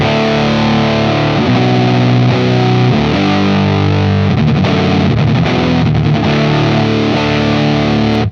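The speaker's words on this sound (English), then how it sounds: "even more saturation out of the distortion channel in the HM Demon" Electric guitar played through the distortion channel of a Bardic Audio Devices HM Demon pedal, heavily saturated chords and riffs ringing loud and continuous, with a few short muted chugs midway and no talking.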